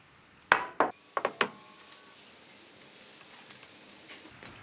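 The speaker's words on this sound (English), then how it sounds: "tighten using a size 27 spanner" Size 27 spanner tightening actuator bushings with O-rings on an Alfa Laval Unique SSV valve, four sharp metallic clinks in quick succession near the start, then faint ticks and quiet handling.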